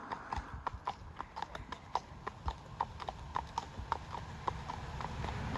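Horses out on a ten-mile hack, their hooves clip-clopping in a steady, even walking rhythm close by, each strike sharp and distinct over a low background rumble, with no talking.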